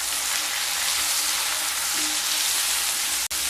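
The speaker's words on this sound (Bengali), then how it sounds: "সাথে দিয়ে দেব একটা বড় সাইজের কেটে রাখা টমেটো, আর দিয়ে দেবো 3 পিস কেটে কাঁচা লঙ্কা, পরিমাণ মতো লবণ, 1 চামচ হলুদ গুঁড়ো দিয়ে খুব ভালোভাবে মিশিয়ে নেব" Fish frying in a pan with tomato, green chili, salt and turmeric being mixed in, a dense, even sizzle hissing loudly throughout, broken by a brief dropout near the end, with no talking.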